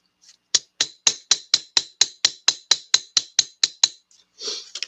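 Hammer strikes metal on a tiny anvil while shaping a small piece for decoy making, about fourteen sharp, evenly spaced, ringing taps in a steady rhythm, close and loud, followed by a brief rustle.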